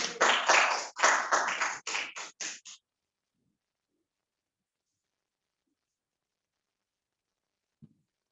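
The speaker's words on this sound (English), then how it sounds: "So let's have a round of applause for Carolyn." Brief burst of audience clapping at an evening community talk on the 1926-27 Mason-Dansville rural electrification project, a few seconds of close, somewhat sparse hand claps fading quickly into silence.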